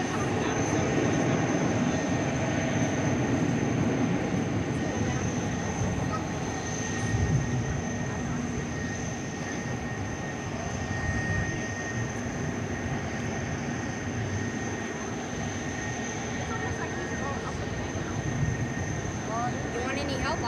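An Airbus A350-1000 bound for Doha at DFW Airport at night, heard as a sustained, even jet roar with a faint steady whine, carrying on for about twenty seconds with faint voices in the background.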